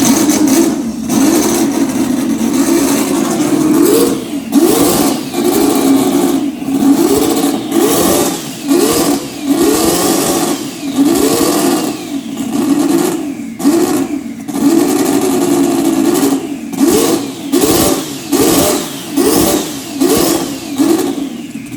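A turbocharged six-rotor engine in a Mazda FC RX7 at a 7's Day car meet revs loudly and repeatedly, each blip rising and falling in a rhythmic series of sharp, buzzing surges close by.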